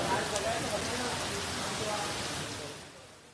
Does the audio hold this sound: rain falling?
yes